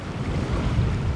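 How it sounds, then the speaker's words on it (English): Strong wind buffets the microphone over rough water with crashing waves, a dense, loud, continuous roar with no voices. "the wind is horrendous, the waves, the water looks awful"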